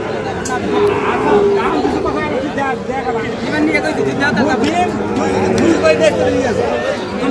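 Busy cattle market selling Sahiwal breed calves, with a steady crowd hubbub of chatter and animal sounds close by, and a moo or two under the talk.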